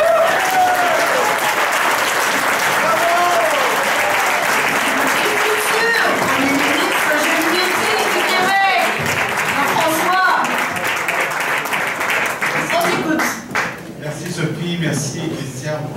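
Sustained applause from an audience at a Parti québécois gathering, a conference dinner of the Action nationale, welcoming new party leader Jean-François Lisée; dense, loud clapping holds steady for about thirteen seconds, with a few voices mixed in, then thins out toward the end.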